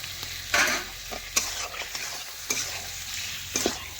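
A spatula stirs cashew and poppy seed paste into spiced chicken masala in a pan, producing a low sizzle with a few distinct scraping strokes spaced about a second apart.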